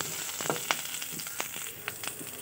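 Slit green chillies hit hot oil and fry with a crackling, popping sizzle full of quick sharp spits, close and fairly loud, with nobody speaking.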